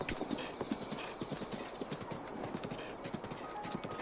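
Horse hooves galloping in The Legend of Zelda: Breath of the Wild, a quick, even clip-clop rhythm of hoofbeats close by at moderate level, with faint ambient game sound behind.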